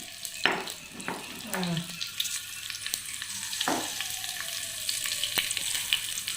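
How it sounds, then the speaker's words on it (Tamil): Food fries in hot ghee with a steady sizzle, broken by a few sharp clinks and scrapes of a utensil stirring the pan, heard up close without speech. "நெய்யில் தான் நம்ம நல்லா ஃப்ரை பண்ணுறோம்."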